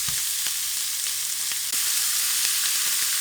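Crumbled sausage meat sizzles and fries steadily in a pan, a loud, dense crackle with occasional sharper pops and scraping stirs as it is broken down fine.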